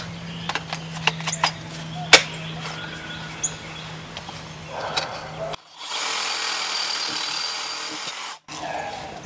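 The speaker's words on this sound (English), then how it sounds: "Now I am going to take a reciprocating saw and cut this back here." A reciprocating saw fitted with a metal-cutting blade bites into a water service pipe in a loud, buzzing burst of about three seconds, after scattered clanks and handling noises.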